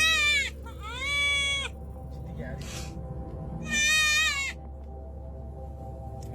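A goat with cyclopia bleats in two loud, wavering cries, one short and one longer, over a steady low hum and quiet background.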